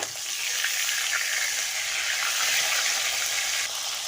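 Turmeric-coated fish fries in hot oil in a wok, giving a loud, continuous close sizzle that stays even throughout and eases slightly near the end.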